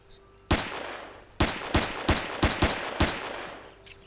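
Gunfire from the player's weapon in the video game Empyrion Galactic Survival: about eight sharp, loud shots close by, one isolated, then a quick irregular cluster and a final report, each with a short decaying tail.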